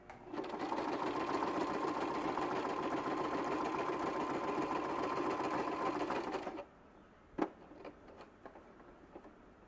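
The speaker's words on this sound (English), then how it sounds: "Now we put a stitch across the bottom." Sewing machine stitches a seam across the bottom of a waxed canvas drawstring bag, a steady close mechanical whir lasting about six seconds, then stopping, followed by a few faint clicks and handling sounds.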